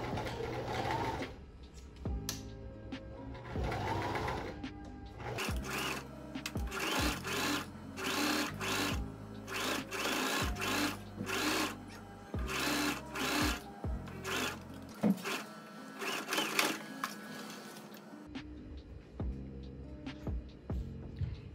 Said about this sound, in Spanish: voy a coser a 1 centímetro por todo el contorno de la sisa